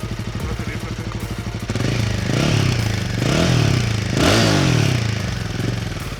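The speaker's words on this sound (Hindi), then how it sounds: "ये तो आइडल के ऊपर साउंड है इसकी, ये इसकी आइडल आवाज है।" A Royal Enfield Himalayan 450 motorcycle sits at idle, its exhaust giving a loud, close, steady thrum that swells slightly twice. The idle holds throughout with no voices.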